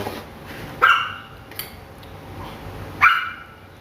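A dog barks twice, a few seconds apart, sharp and fairly close, with quiet background noise in between.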